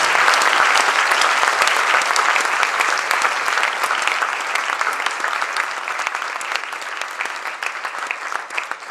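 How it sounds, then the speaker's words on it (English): Audience applause at a school closing ceremony: steady, dense clapping from a large crowd throughout, loud and close, tapering slightly toward the end with no voices over it. "Please give him a big round of applause."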